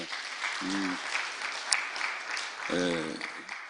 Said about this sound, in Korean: 박수 한번 쳐야 돼